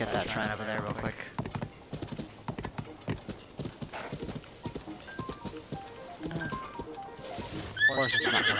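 Rhythmic hoof clip-clops of a galloping horse in The Legend of Zelda: Tears of the Kingdom, with a loud whinny near the end, set against game music and a voice talking over it.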